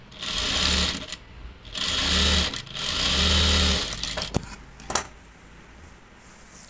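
A sewing machine stitches a water drop model blouse neck in three loud, steady whirring runs separated by brief pauses, followed by a few clicks and taps of fabric handling close by.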